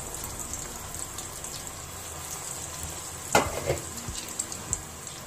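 Veg cutlets fry in hot oil with a steady low sizzle, then a brief louder burst of crackling as more goes into the pan.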